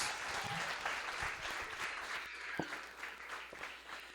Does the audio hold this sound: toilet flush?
no